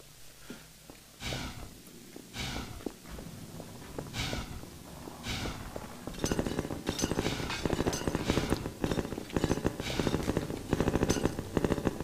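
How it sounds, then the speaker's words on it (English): Gunfire in the video game Half-Life 2 is faint at first, then turns into dense rapid bursts of shots that grow louder and more continuous toward the end. "He's shooting me from down there."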